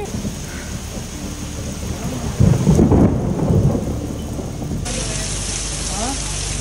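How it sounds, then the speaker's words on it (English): A thunderstorm passes over a campground. Steady rain hisses throughout, and a loud, close roll of thunder rumbles through the middle before easing back into the rain. "So together we waited for the storm to pass."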